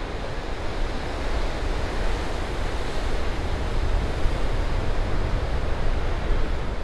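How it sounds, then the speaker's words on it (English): Ocean waves surge against cliffs on the Sonoma Coast. A loud, continuous wash of surf roars steadily, with wind buffeting the microphone and no talking. "some of the ocean waves run up against the cliffs"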